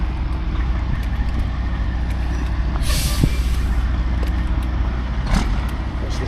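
Semi truck idling and moving at low speed with a heavy diesel rumble, a loud hiss of air brakes releasing midway and another shorter hiss near the end, close by with no talk.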